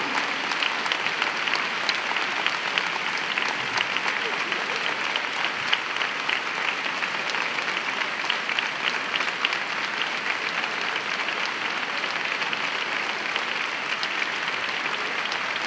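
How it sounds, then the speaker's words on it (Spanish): Concert audience applause for a flamenco singer, a steady, dense wash of clapping from a large crowd that continues evenly for the whole stretch at moderate distance. "cómo me suenan a mí estas palmas."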